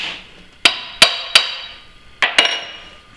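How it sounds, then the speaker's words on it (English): A brass hammer taps a steel pin in a tractor axle housing: five sharp, ringing metallic strikes, three evenly spaced, then a pause and two more quick ones, close and alone. "I decided to give her a couple love taps with a brass hammer just to see how tight it was"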